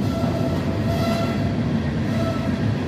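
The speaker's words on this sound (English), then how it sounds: "There's a train going over there too, fellas. West Virginia Railroad, crazy, guys. There's the coal runner going in that direction." A West Virginia Railroad coal train rolls past at a distance, a steady, continuous rumble of railcars with a faint sustained tone above it and no voices.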